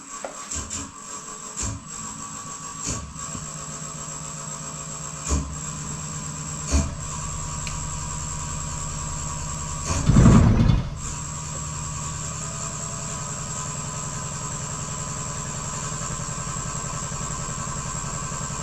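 Wood lathe running with a walnut cake stand mounted, a steady mechanical hum and whine throughout with a few soft knocks and a louder low rumble surge midway as it comes up to speed, close by with no talk.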